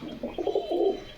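Pigeon cooing at close range, a low throaty rolling coo in a couple of pulses, fairly loud against a quiet background.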